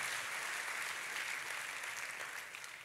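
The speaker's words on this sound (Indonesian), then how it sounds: "Kita kasih tepuk tangannya pula yang paling meriah buat Tuhan." Lively round of applause from a church congregation for God, dense steady clapping that begins to fade near the end, fairly quiet overall.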